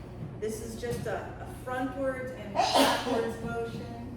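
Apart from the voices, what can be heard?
person sneezing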